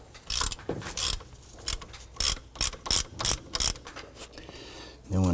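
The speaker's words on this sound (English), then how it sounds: "go ahead and remove this alternator bolt. Just loosen this bolt." A ratchet clicks in several quick bursts as a socket loosens the alternator bolt on a 2007-2014 Cadillac Escalade, close up with short pauses between strokes.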